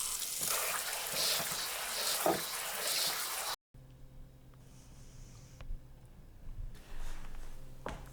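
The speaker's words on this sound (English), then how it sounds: "I rinse the Orach in cold water so the leaves don't turn to mush from the heat." Orach leaves are rinsed under cold running water, giving a loud rushing splash at first, then a short gap and quieter trickling with a few light knocks and bumps; no speech.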